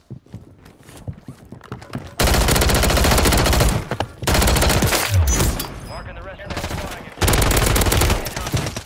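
Rapid automatic gunfire in Call of Duty MWIII on Rebirth Island, with long loud bursts and short pauses between them, mixed with game effects, while a player talks faintly beneath the shots.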